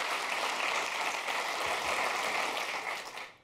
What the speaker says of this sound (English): Thank you very much for that smattering of applause.